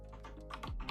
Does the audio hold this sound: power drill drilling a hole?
no